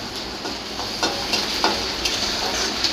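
Onions with ginger-garlic paste sizzle steadily in a pan as they are stirred, with soft scrapes and clinks of the spatula repeating near the microphone.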